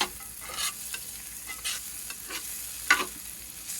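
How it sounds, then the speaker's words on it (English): Venison and peppers searing in melted butter in a pan, a soft continuous sizzle broken by a few brief stirring scrapes and one sharper clink, close and quiet, no speech. "We're gonna let that sear around a little bit. Finish melting that butter."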